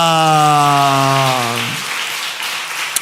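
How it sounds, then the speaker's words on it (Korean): A church congregation breaks into a burst of applause as a sustained sung or spoken tone fades out, the clapping continuing as a dense, rain-like patter that tapers toward the end. "한 번 더 다 같이 박수해 주세요"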